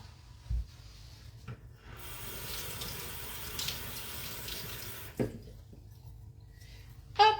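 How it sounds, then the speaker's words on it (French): Tap water runs steadily over raw chicken drumsticks being rinsed at a kitchen sink, a close, continuous hiss lasting several seconds with a few handling knocks, no talking. "je vais la passer sous l'eau."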